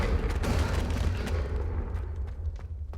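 Confringo spell cast in the video game Hogwarts Legacy, a loud fiery explosion with a booming low rumble and crackling bursts that fade over three seconds.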